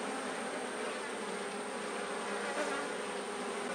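Honey bees in a queenless hive drone in a dense, continuous buzz, steady and close throughout.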